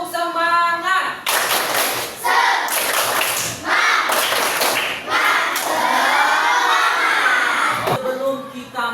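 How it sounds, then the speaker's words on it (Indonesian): A class of schoolchildren performs a rhythmic spirit-clap cheer in a classroom, with loud bursts of clapping and shouted chant phrases between short pauses, a teacher's voice leading at the start and end. "Tepuk semangat."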